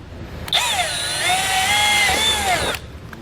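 A power drill boring a 1/4-inch pilot hole in plastic while a Roadmaster diode wiring kit is installed: a steady, close whine that holds for about two seconds, then stops abruptly.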